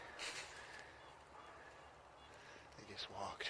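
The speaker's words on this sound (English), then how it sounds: "let's get a view of those turkeys" Wild turkeys gobble faintly and far off across an open field, their calls thin and intermittent under steady outdoor background noise, with a voice murmuring nearby.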